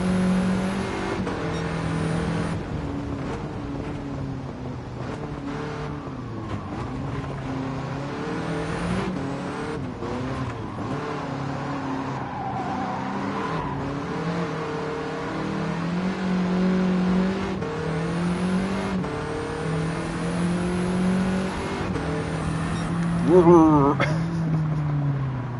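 A heavily over-tuned race car in Gran Turismo 7 drones through a race with sustained engine tone rising and falling through gear changes and revs, while someone talks over it throughout.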